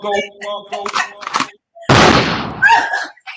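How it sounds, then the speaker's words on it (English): A gunshot sound effect bursts out as one loud, sudden blast with a noisy decaying tail, set between stretches of lively talk from several people on a talk show. "The gunshot."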